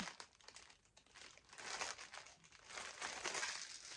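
Crinkling packaging paper from a new embroidery kit, rustling in bursts that swell louder toward the middle and end, close to the microphone, with no talking.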